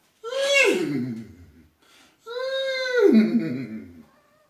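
A cat lets out two long, plaintive meows nearby, each rising then sliding down in pitch, with a brief pause between them.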